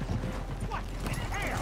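Horse hooves clip-clopping along a road in Red Dead Redemption 2, a steady soft trot under game ambience with a brief whinny-like tone near the end and some voices.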